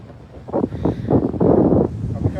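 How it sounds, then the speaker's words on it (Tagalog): Strong wind buffets the microphone on a cold beach at the Corniche, coming in heavy rumbling gusts that swell and fade, with a voice speaking over part of it. "ang lakas ng hangin."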